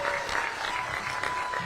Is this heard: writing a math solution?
no